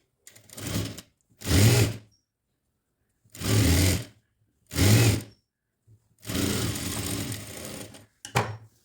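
Sewing machine stitches folded lining fabric for a kurti neck in short separate bursts of motor whir, close and clear, with silent pauses between runs and no speech.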